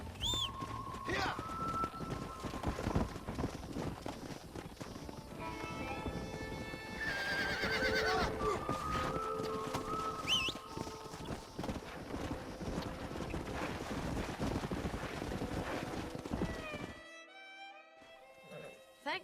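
Horse hooves clip-clop and a horse whinnies in Red Dead Redemption on PC, with game music and someone talking over the hoofbeats, which fade to near silence at the end.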